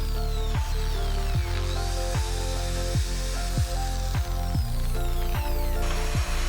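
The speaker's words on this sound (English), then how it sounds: "Then, drill the mark using drill bit 4 mm." A power drill fitted with a 4 mm bit bores a punched mark in the base plate of a circular saw: a steady motor whine with repeated short bursts as the bit bites and eases off.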